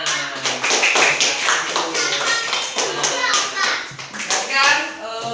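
A classroom of fifth-grade children clapping their hands in a steady rhythmic beat, loud and close, with children's voices mixed in throughout.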